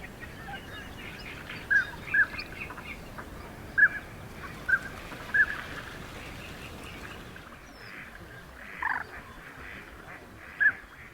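Common pochard ducks on a deep lagoon in spring give a series of short, rough calls over a steady outdoor background, some louder and nearer, spaced a second or more apart and followed by a quieter stretch.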